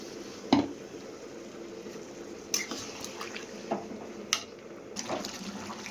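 Water is poured into a pot of cooking meat, giving a steady, watery wash with a few sharp metal clinks from utensils against the pot. It sounds close, and no one speaks.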